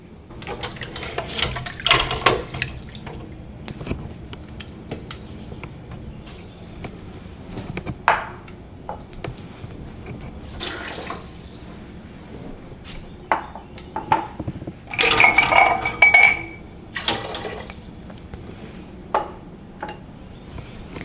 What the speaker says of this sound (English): I'm going to pull my jars out of the canner so that they're ready to fill